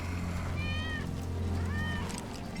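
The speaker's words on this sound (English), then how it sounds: "That's Wedge's cat." A cat meows twice inside Final Fantasy VII Remake, two rising-falling calls about a second apart, moderately loud over a steady low game ambience hum.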